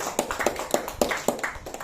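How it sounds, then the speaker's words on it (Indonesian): An audience at a company event in a hall claps briefly, a quick run of sharp, irregular hand claps from a small group, moderately loud and close. "tepuk tangan buat Bapak Ibu semua."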